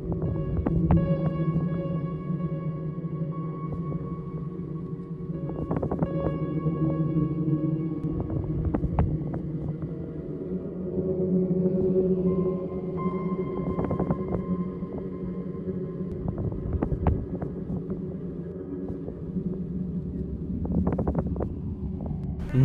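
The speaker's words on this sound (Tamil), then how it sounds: "அமெரிக்காவில் திறந்த வெளியில் திடீரென உருவான சுழல் காற்று ஒரே இடத்தில் சுற்றிச் சுழன்ற வீடியோ" A whirlwind spins across an open field in New Mexico, giving a steady, loud rush of wind with low rumbling buffeting and a few sharp gusty thumps against the microphone, with no talk throughout.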